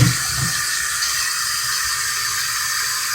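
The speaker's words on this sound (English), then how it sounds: "we are going to rinse her hair" Tap water runs steadily into a sink while a Barbie doll's long hair is rinsed of shampoo, a continuous close splashing hiss with no talking.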